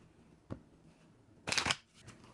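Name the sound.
shuffling tarot cards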